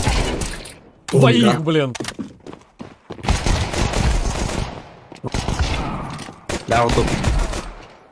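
Gunfire in Counter-Strike 2 crackles in short bursts between and under excited voices talking throughout, loud and close.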